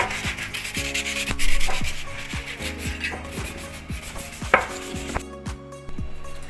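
A pipe cutter working on water heater piping, heard as rough scraping and rubbing strokes in an uneven rhythm with ringing metallic tones, close and fairly loud, then a sharp click near the end.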